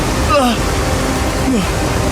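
Rushing water current inside a cave roars in a steady, loud, continuous wash, with brief vocal sounds rising over it.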